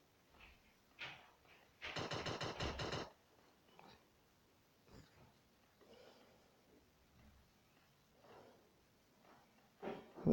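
Automatic gunfire in the PUBG video game, a rapid burst of about a dozen shots lasting about a second, followed by scattered faint thuds and quiet background noise.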